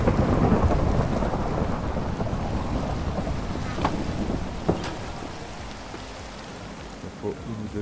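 A Minecraft thunderstorm with steady heavy rain, sharp thunder cracks standing out near the middle over a constant loud wash of rainfall, with no speech.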